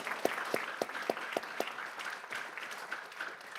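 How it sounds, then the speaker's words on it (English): Scattered applause from an audience at a school board meeting, with a few loud individual claps up front and a thin, brief patter of clapping behind. "let's give everybody a round of applause"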